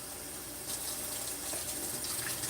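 A kitchen faucet runs steadily as green beans are rinsed in the sink, producing a continuous close splashing hiss that swells slightly partway through, with no talk.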